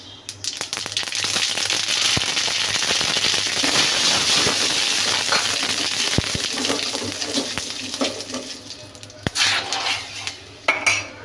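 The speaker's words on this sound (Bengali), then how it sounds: "এখন আমি কিছু পরিমাণ সরিষা দিয়ে দিব" Mustard seeds splutter in hot oil for a Bengali bottle gourd shukto: a dense, continuous sizzle broken by sharp popping crackles that thins into scattered louder pops toward the end.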